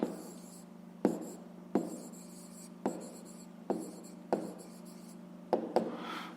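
A pen writes out a math answer on paper in a series of short scratchy strokes, each starting with a sharp tap, close and clear with a quiet pause between words.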